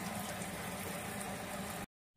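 Water heating in a pot on the stove for cooking rice, a steady close bubbling and rumbling simmer that cuts off abruptly near the end.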